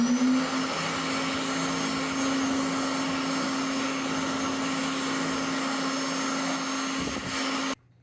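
A Slim Dry hand dryer blows in a McDonald's restroom, a loud steady rushing whoosh with a faint constant tone that runs unbroken before cutting off abruptly at the end.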